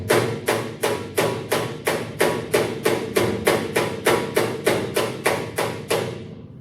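A hammer taps out dents in car body sheet metal, striking about eighteen times in an even, steady rhythm, each blow a close, sharp metallic knock.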